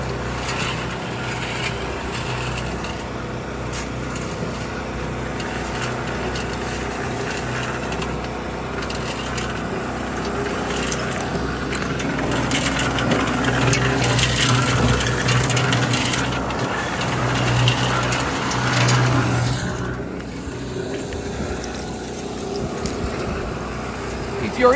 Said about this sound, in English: that generator is a bit noisy, so at times it might be difficult to hear us over the noise from the generator and from the cement mixer